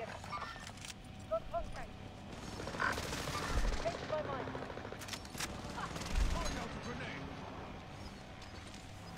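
Video game gunfire during a multiplayer match, rapid bursts of shots and sharp reports scattered through a busy mix of game effects, mostly moderate and somewhat distant, with a low thump or two.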